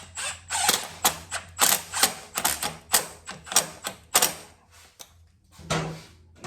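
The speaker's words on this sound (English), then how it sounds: "Get your torque wrench back out." A hand wrench tightens Harley-Davidson chain drive kit bolts to 90–120 inch-pounds, making a run of sharp, close mechanical clicks and ratcheting strokes in uneven bursts, with a short pause before a final click.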